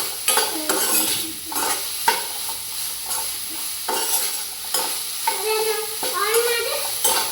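Broccoli fries in a home kitchen pan with a continuous sizzle and repeated scraping stirs of a utensil against the metal. Brief voices rise near the end.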